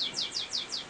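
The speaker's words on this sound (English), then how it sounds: "Now let's take a look at some of the young birds in the stock shed." Young finch and mule hybrid birds in a stock shed chirp in a fast run of four or five bright, repeated notes, close and clear with no talk.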